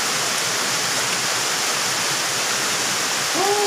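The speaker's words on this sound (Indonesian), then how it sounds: "Masih hujan, bro." Rain falling on a forest, heard from inside a hut: a dense, steady hiss that stays at an even, loud level throughout. A voice starts briefly at the very end.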